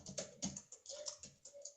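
Typing on a computer keyboard, quick light key taps in an uneven rhythm, close and quiet with no talk.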